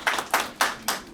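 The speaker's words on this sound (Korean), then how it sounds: "우리 한 힘찬 박수 부탁드립니다" Hands clap at a citizens' briefing in Jecheon on the Uirimji natural healing special zone, with about five sharp, evenly spaced claps close by in a brisk rhythm.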